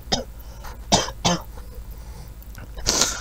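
Someone commentating on football breaks into a fit of coughing: several sharp, close coughs in a ragged burst, a short pause, then a final harsher cough and throat clearing.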